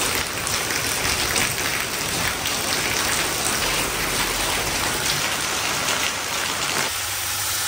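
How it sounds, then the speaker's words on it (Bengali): Heavy rain pours down in a steady, dense broadband hiss and patter that stays loud and unbroken throughout, with no voices over it. "বাড়লো আবার বৃষ্টিটা।"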